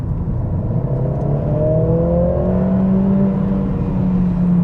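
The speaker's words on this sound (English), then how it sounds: "Let's try an acceleration without the exhaust button on." A Mercedes CLA45 AMG accelerates with its exhaust button switched off, a steady engine drone rising in pitch through the gear, continuous and fairly loud from the cabin with no talking.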